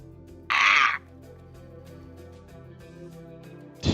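A tabletop role-playing player imitates a bird call with his voice, one loud cawing squawk near the start and a second beginning at the very end, low room hum between.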